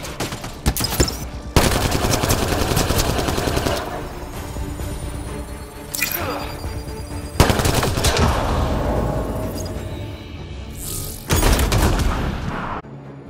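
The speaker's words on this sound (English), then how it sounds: "Enemy fire!" Heavy enemy gunfire in Mass Effect Andromeda during a firefight in a hack zone: loud, sustained machine-gun bursts with short gaps between them, close and dense.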